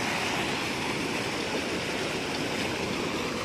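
Floodwater rushing steadily with a broad, continuous roar, close and loud, like a fast-flowing torrent strong enough to sweep away vehicles.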